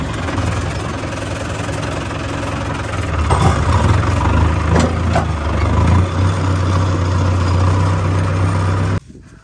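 A farm tractor used to haul maize for silage runs nearby with a steady, knocking diesel drone, growing a little louder midway and then cutting off abruptly near the end.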